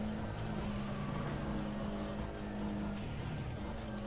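A race car engine in Import Tuner Challenge drones steadily at a constant pitch with faint tire noise, played at low level and uninterrupted throughout.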